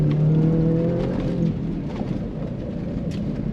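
A 2024 Ford F-150 Raptor R truck under throttle gives a loud, steady engine roar with a deep held tone that eases slightly after the first second and a half, then carries on strong and continuous.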